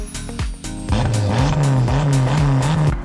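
A 350bhp Mk1 Ford Escort Cosworth engine revs hard, then settles into a loud, steady drone with rhythmic rising pitch as it accelerates through gears, close up and alone.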